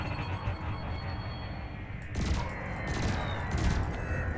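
Spaceship cannon fire in the video game Elite Dangerous: three or four sharp, crackling shots land about evenly spaced over a steady rumbling engine drone, fairly close and loud.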